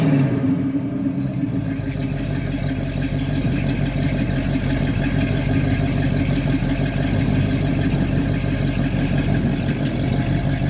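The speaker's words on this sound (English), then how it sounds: "Sounds good out the exhaust." A 1969 Pontiac Firebird with numbers-matching engine idles steadily through its exhaust, giving a deep, continuous rumble that stays close and even throughout with no one talking.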